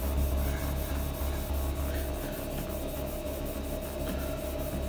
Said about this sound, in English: Elbow grease. Bit of a scrub.